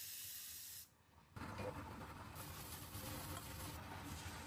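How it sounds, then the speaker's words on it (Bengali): Eggs fry in a pan with salt and turmeric, giving a close, steady sizzling hiss that dips briefly and then surges louder, as if more was added to the hot oil; no talking. "এভাবে ডিমগুলা ভেজে নিব"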